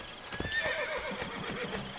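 A horse in Assassin's Creed Brotherhood whinnies and clip-clops, the neigh rising over steady hoofbeats at moderate volume for about two seconds, with no talking.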